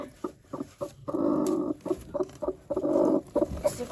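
A broody hen moving about in a nest box as eggs are collected, giving low, repeated clucks and drawn-out grumbling calls close by, with soft rustling between them.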